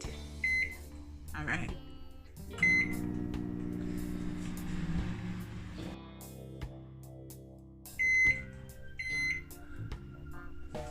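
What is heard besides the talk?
microwave oven running while cooking chocolate mug cake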